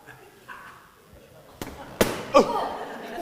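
A balloon bursts with a sharp, loud bang during a Christmas Day family church service, one of several abrupt cracking pops in quick succession amid a quiet room with voices nearby.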